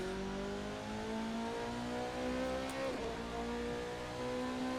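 Motorbike-style engine of a Radical prototype race car in Assetto Corsa revs steadily and climbs through the gears, with one sharp gearshift dip partway, a continuous close buzzing whine.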